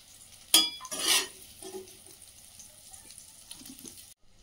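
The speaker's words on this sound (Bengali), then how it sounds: "পাঁচ মাছটা ভাজা হচ্ছে" Fish fries in oil with a soft hiss, broken early by two loud bursts of spattering sizzle and a few scrapes and clinks of a utensil against the pan.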